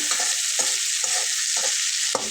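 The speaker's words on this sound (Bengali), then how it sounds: "কিন্তু সম্পূর্ণ তেল দিয়ে ভাজা ভাজা করে নিয়েছি উল্টে পাল্টে" Soft tomatoes frying in plain oil with no water, a dense steady sizzle broken by about five scraping turns of a spatula at a regular pace, close and fairly loud with no voices.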